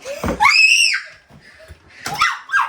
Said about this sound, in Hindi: ये भाग गई चीख के